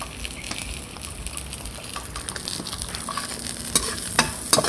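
Food fries in hot cooking oil with a busy, crackling sizzle that stays steady and close, punctuated by a few sharper pops and clicks toward the end.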